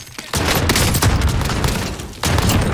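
Incendiary shotgun blasts in Modern Warfare Warzone, two heavy booming shots, the first sustained with a crackling tail and a second blast near the end, loud and close.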